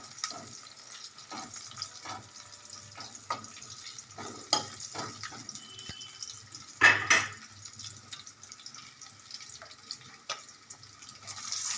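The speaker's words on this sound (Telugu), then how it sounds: "వాటర్ పోస్తున్నాను." Water poured into a pan of fried onion, green chilli and ginger while making Bombay rava upma, a soft splashing and sizzling with faint drips and stirring, close and moderately quiet, no voices.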